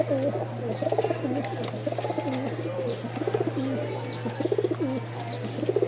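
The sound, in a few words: male pigeon cooing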